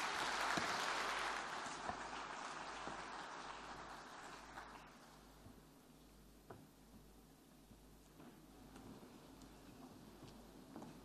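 Audience applause at a Red Cross and Red Crescent Societies gathering, a broad wash of clapping that is strongest at first and thins to scattered claps after about five seconds, heard from a distance.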